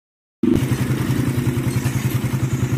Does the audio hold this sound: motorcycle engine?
yes